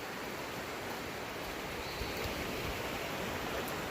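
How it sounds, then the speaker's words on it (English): A rushing mountain river deep in a canyon below a hiking trail gives a steady, broad roar of flowing water that holds even from start to finish, with no voices. "See this beautiful rushing river."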